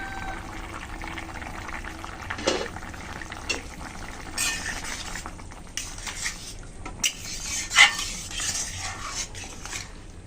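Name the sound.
lifting the lid off a cooking pot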